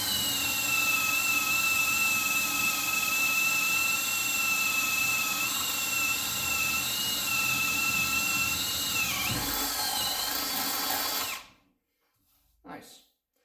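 A Parkside Performance 20V PABSP 20-Li cordless drill runs at full speed with a steady, close, high whine for about eleven seconds, then winds down and stops. A faint bump follows in the quiet.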